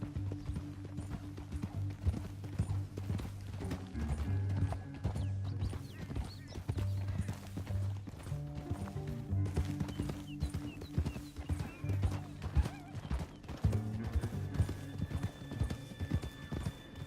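Horses in Red Dead Redemption 2 trot with rhythmic clip-clop hoofbeats over ground, and a whinny rises now and then over the steady gait.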